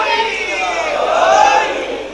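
A large crowd at a religious majlis in an imambargah shouts slogans in unison, a loud, sustained swell of many voices that rises in the middle and then eases.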